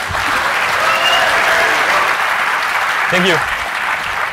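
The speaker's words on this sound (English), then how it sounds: "let's give a warm round of applause for Docker and Kubernetes" Audience applause at a KubeCon conference talk on Docker Swarm and Kubernetes, a steady loud roar of clapping from a large crowd that fills the room, with a single voice briefly speaking over it near the end.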